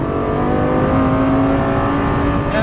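A Lamborghini engine on a race track pulls hard under throttle, a loud, close, steady roar with rising harmonic tones as it accelerates.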